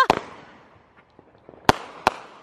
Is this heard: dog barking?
no